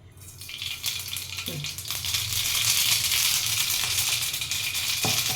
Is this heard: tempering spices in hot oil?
yes